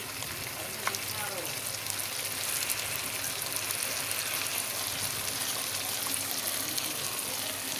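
Ground onion sizzles steadily in hot oil in a pan, a continuous soft frying hiss with no voices.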